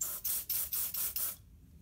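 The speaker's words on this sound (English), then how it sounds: "we are going to spray it in the detector." Six quick hissing bursts of CRC aerosol spray into a smoke detector to test a fire alarm system, in a steady rhythm, close and fairly loud, then silence.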